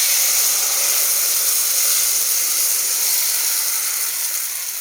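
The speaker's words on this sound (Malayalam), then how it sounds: "അരിപ്പൊടിയുടെ മാവ് ഇതിലേക്ക് ഒഴിച്ചു കൊടുക്കാം." Rice flour batter poured into a hot pan gives a steady, loud steamy hiss that holds evenly throughout and eases off slightly at the end, with no talking.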